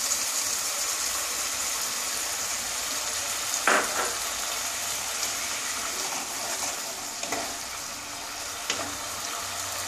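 Coconut milk goes into a pointed gourd (potol) malai curry simmering in a pan, with a steady hiss and bubbling, a brief pouring splash near the middle and a few faint scrapes later.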